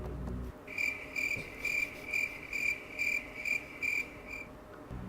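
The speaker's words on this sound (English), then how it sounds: "you can put that cricket sound there" Crickets chirp in a steady, regular pulse of about eight bright trills, fairly faint against a quiet background hum, with no voices.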